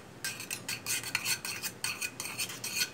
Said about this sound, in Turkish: Şöyle bir güzel karıştırıyorum.